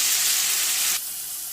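Chicken fry sizzles loudly in a pan as curry leaves are stirred in, a steady bright hiss of frying that drops sharply in level about a second in and continues more softly.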